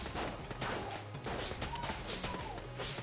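Enemy gunfire in the video game Enter the Gungeon, from a jammed enemy shooting jammed bullets: a dense, continuous barrage of synthetic shots and impacts layered over steady game music, fairly loud throughout.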